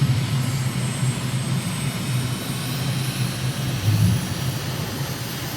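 Light aircraft engine on final approach with gear and flaps down, power rising to build speed; a steady loud drone throughout, swelling briefly near the end, with no talk.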